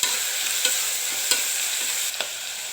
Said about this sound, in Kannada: ಒಂದು ಮೀಡಿಯಮ್ ಸೈಜ್ 2 ಟೊಮೆಟೊ ಹಾಕ್ಕೊಳ್ಳಿ. ಇದನ್ನು ಸ್ವಲ್ಪ ಬಾಡಿಸ್ಕೊಳ್ಳಿ